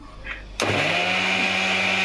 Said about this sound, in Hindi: ऐसे रुक के चलाई जा रही है मिक्सी